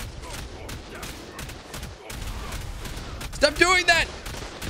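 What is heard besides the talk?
enemies shooting down rockets in ARK video game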